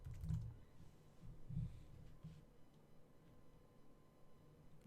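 Computer keyboard being typed on, a few soft quick key taps early on, faint and close, then quiet room tone.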